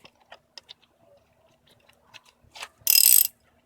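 A ratchet wrench tightens a spark plug on an 8th-generation Honda Accord (2008-2012), giving a few soft clicks followed by one short, louder burst of rapid ratcheting, with no talking.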